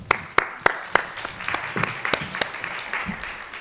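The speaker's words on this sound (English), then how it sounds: "Wow, applause before I speak." Conference audience applause, a few sharp early claps swelling into steady clapping from a crowd, moderately loud and fading slightly toward the end, with faint voices underneath.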